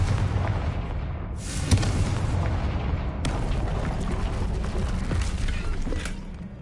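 A Confringo blasting spell in the Hogwarts Legacy video game, with heavy booming explosions at about two and three seconds followed by a long rumbling, crumbling roar of debris, loud and with no talking.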